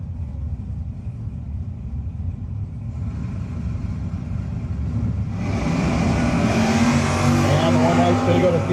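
No-box 660 drag race cars, including a Camaro, idling low and then launching hard, the engine rumble swelling into a loud roar near the end with an announcer talking over it.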